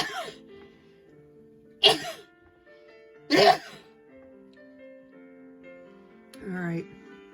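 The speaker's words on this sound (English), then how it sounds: "I'm going to sneeze in a second" A sneeze bursts out during a quiet adult coloring lesson, with sharp loud outbursts standing apart from faint background tones and breathing.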